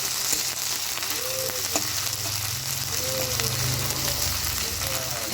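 Tomato frying in oil in a pan for a fish fritter curry, a steady close sizzle with occasional stirring scrapes and faint voice in the background.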